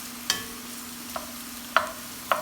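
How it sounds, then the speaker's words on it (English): Beans stirred into a pot of minestrone soup: a soft low simmer underneath with four distinct spoon scrapes and clinks against the pot, spaced irregularly, close and fairly quiet. "then the beans go. Just give that a little stir."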